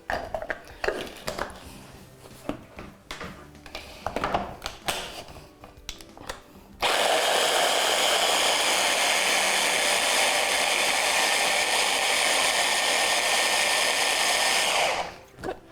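Blender pureeing a pineapple mixture with garlic and chili, starting after some kitchen clatter and running as a loud steady whir for about nine seconds before cutting off.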